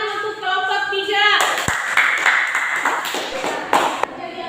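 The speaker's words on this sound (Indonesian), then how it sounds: "kita beri tepuk tangan untuk kelompok 3" Classroom applause for presentation group 3 in a vocational school class: several people clapping in a brief, uneven burst that follows a short tonal chime, with sharp individual claps near the end.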